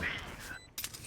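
Gunfire in the video game Valorant: a short burst of rapid shots near the end, mixed in with in-game voice talk and background game ambience.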